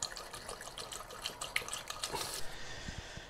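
Tap water pours into the radiator of an MG Midget as coolant, a faint, close stream of splashing and trickling liquid with small gurgles, steady throughout and with no voices.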